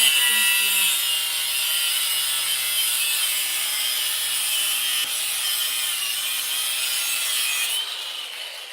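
Metal cutting with a grinder throwing sparks indoors, a loud continuous hissing, rasping whine that holds steady and tapers off near the end, with faint voices in the background.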